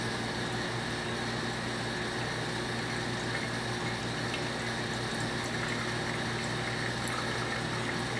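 Hot water is poured over ground coffee in a home pour-over brew, making a continuous soft hiss and trickle at a steady, moderate level with no breaks.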